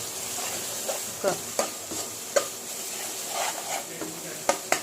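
Ginger-garlic paste frying in oil with onions for a tomato mutton curry, stirred with a spoon: a steady soft sizzle broken by a string of sharp scrapes and knocks against the pan.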